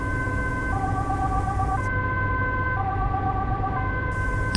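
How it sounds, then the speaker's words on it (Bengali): A wailing ambulance siren in a Bengali ghost cartoon, its steady alternating tones ringing loud and close over a constant low rumble, with no voices. "এ যেন কোনো অ্যাম্বুলেন্স।"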